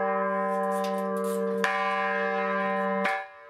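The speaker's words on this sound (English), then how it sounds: "the bells are rung for Angelus" Monastery church bells ring for the Angelus, with two clear, loud strikes over a sustained humming resonance that stops abruptly at the end.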